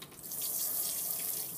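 Water sprays steadily and close, like a running tap or hand shower, during a mini dachshund's first bath at home, with no voices.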